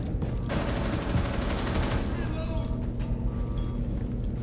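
Automatic gunfire rattles in a Rainbow Six Siege match on a new DLC map. Rapid, dense bursts sit over steady game noise, with a player's voice talking over them.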